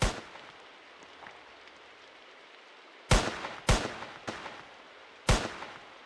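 Desert Eagle pistol gunfire in the Roblox game Liberty County: one shot at the start, then four sharp shots in a quick cluster a little later, loud and close against a soft background hiss.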